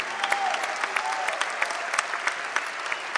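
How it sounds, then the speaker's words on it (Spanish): Steady applause from an audience at a political congress in Argentina, many hands clapping together in a dense, continuous wash that holds for the whole stretch with no voices above it. "Ya que están aplaudiendo"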